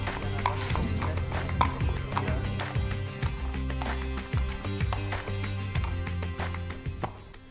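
Several horses walk on paving stones in a walking ring during the pre-selection for the Verden horse auction, with steady overlapping hoof clip-clops and an occasional whinny, loud and close throughout.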